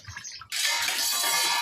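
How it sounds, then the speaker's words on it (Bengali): Water splashes over a bottle gourd being washed, starting abruptly after a brief quiet moment and running as a steady, close rush of flowing water. "লাউটা ধুয়ে নিচ্ছি"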